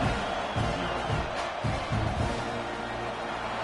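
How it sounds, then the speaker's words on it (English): A football stadium crowd at a college game against Kansas State roars steadily and loudly in a dense wash of cheering, with no single voice standing out. "this crowd is feeling themselves after that last drive"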